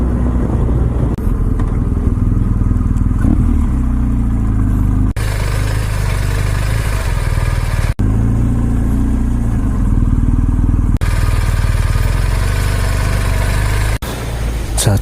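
The engine and exhaust of a BMW R1250GS motorcycle give a loud, continuous rumbling drone with a few short dips, recorded up close while riding.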